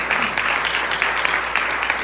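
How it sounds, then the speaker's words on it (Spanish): A church congregation applauding parents during a service, a steady, full round of many hands clapping, loud and even across the whole stretch. "podemos darle un fuerte aplauso a los padres también que están aquí."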